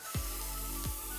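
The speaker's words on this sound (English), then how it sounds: "this thing here, it's a nano oxygen spraying device" A nano oxygen spraying device runs in a skin treatment lab, giving a steady, close airy hiss with a faint hum, broken by two brief soft shifts in tone.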